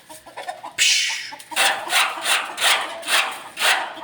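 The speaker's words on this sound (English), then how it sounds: "There's two cockerels, big cockerels, looks like they want to fight." Big cockerels at a street market in Murcia, Negros Occidental, giving loud, close, raspy, scratchy calls in a rhythmic series of bursts, one after another with short gaps.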